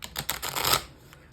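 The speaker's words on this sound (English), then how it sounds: "So I'm just going to shuffle this quickly." A mini tarot card deck shuffled by hand, giving a quick, close burst of papery riffling clicks that fades into quiet after less than a second.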